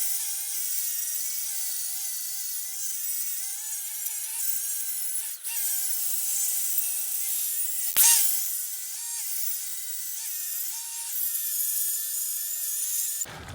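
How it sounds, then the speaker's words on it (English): Grinder or sanding tool smoothing temporarily welded steel edges on a boat trailer tongue, a steady high rasping whine held for the full stretch with a sharp clank near the middle, close and loud with no talk. "I just gotta smooth these edges out a little bit so it'll slide back inside the trailer tongue."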